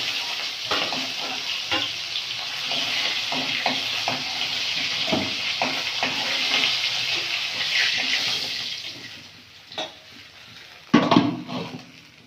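Bhangal fish fry in hot oil in a kadai with a loud, steady sizzle. It eases off near the end, broken by a few clunks and a splash.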